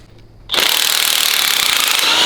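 An old DeWalt power tool starts up abruptly and runs at a loud, steady, high-pitched whine with gritty texture, close by and sustained to the end.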